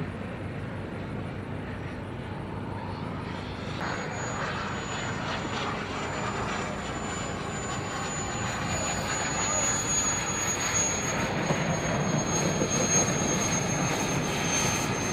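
Jet aircraft coming in to land at an air show in Kentucky, a steady distant engine roar that slowly builds, with faint talk and crowd noise underneath.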